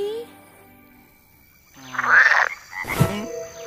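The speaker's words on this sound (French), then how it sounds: "Non, Bernie, ce ne sont que des grenouilles au bord de l'étang." Cartoon frogs croak at night by a pond in mating season, a few bursts of throaty croaks rising out of a quiet pause and sounding close.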